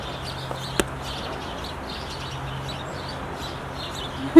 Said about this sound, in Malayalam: ഇതായി വന്നിരിക്കുന്നു ഒരു കുഞ്ഞു കിളി നോക്കിയേ